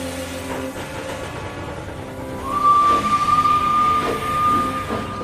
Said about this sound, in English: Edward found it hard to start the heavy train.